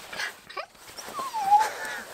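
A dog on a long-distance Pyrenees hiking trek whines in a few rising and falling high-pitched whimpers, close and moderately loud against faint outdoor background.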